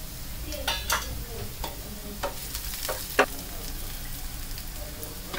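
Onions sautéing in a pan with a pinch of salt, a soft continuous sizzle broken by scattered spatula scrapes and clicks, one sharper tap midway.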